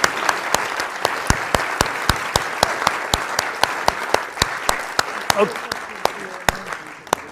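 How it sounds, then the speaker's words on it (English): Audience applause at a rewilding conference, loud and sustained for several seconds from a large seated crowd, with a few sharper claps standing out at a steady rhythm through the dense clatter. "Big round of applause, please."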